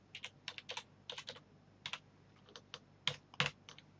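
Code is being typed on a computer keyboard during a Visual C++ programming session. Quiet, close keystrokes come in uneven clusters with short pauses between them, and no voice is heard.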